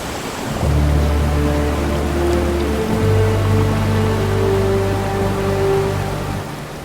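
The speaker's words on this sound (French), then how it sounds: "une cascade" A waterfall spills below the rocks near the Chapelle Saint Jean in the Alpes-Maritimes, a steady rushing wash of water that holds for several seconds, with soft sustained tones layered over it.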